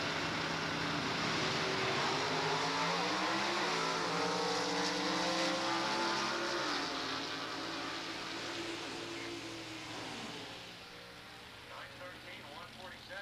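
A powerful Chevelle drag racing engine roars steadily at high revs, then tapers off with some distant crowd noise.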